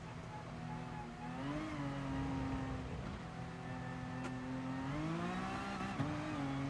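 Honda NSX race car in GT Sport on a wet Spa circuit, its engine droning steadily with rising and falling pitch through gear changes, continuous and fairly quiet with no talking.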